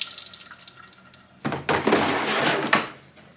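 Water gurgles and splashes as it is poured out in a steady stream from a Hotpoint tumble dryer's water container, following a few light handling clatters.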